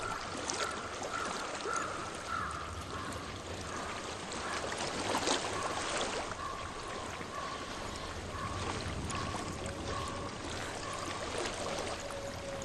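Water flows steadily in the video game Hellblade: Senua's Sacrifice, a continuous rushing, splashing stream heard close and fairly loud throughout, with faint tonal ambience drifting underneath.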